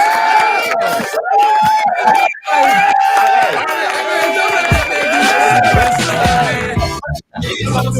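A crowd at a live Fired Up Thursdays show whoops, yells and cheers loudly and continuously, with sustained shouted tones rising over a dense roar of voices and clapping before it briefly drops out near the end.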